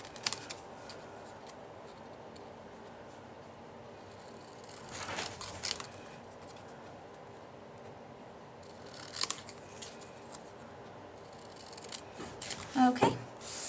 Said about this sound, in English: we're just going to cut out this candy bar.